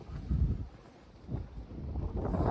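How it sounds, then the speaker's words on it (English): Gusts of wind thump and rumble against the microphone in uneven bursts, a low blustery buffeting with no speech. "Sorry about the wind"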